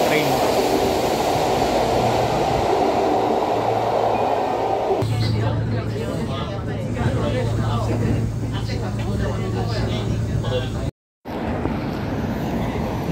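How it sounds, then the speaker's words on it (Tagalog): Ride aboard a bullet train in Japan, heading for Nara Park: a steady rumble and hiss of the moving carriage throughout, with people talking over it and a brief cut near the end. "Bullet train."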